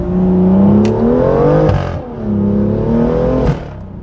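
BMW M2 fitted with a full IPE exhaust system, loud and close, with a revving engine note rising and falling through two surges and sharp crackles of overrun popping between them.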